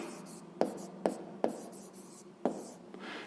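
A pen or marker writes a math equation for a sixth-grade exercise, with four sharp taps as strokes land and scratchy strokes in between, close and fairly quiet without talk.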